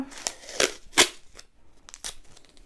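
Several short, crisp ripping bursts of adhesive tape pulled off a roll while preparing a quilt sandwich, spaced irregularly, with faint rustling in between.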